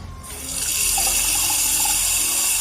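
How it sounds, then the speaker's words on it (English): Water pours steadily from a running tap, rising in the first half second to a loud, continuous hiss and splash that carries on unchanged. "No, it's water running."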